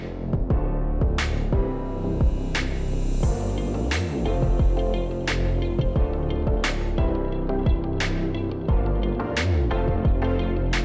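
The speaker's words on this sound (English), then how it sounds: "I do want to apologize for maybe the sound of the fan that you may be hearing." During a Sprinter van build, a fan runs steadily in the background, a continuous droning hum broken by recurring sharp clicks and knocks.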